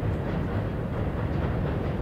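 Tobu train moving slowly toward Asakusa station, a steady low rumble with faint rail rattle, continuous and fairly close throughout.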